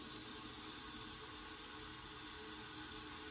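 Four cups of water poured into a container for canning syrup, a steady, even rush of splashing water, close and continuous with no talking.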